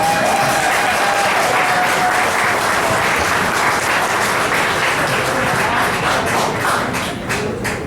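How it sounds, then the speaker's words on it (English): Thunderous, sustained applause from a large crowd at a celebration-of-life memorial gathering, loud and dense throughout and tapering slightly at the very end. "I get this thunderous applause."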